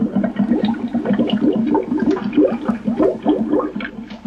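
A loop of bubbling water plays back as a steady stream of rapid, pitched bloops and gurgles, re-recorded at various speeds for a 1979 electronic music piece, heard alone and fairly loud.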